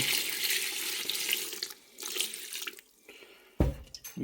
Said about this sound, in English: And we're gonna throw in just about enough water to cover.